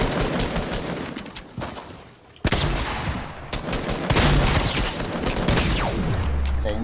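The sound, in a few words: gunfire in a shooting video game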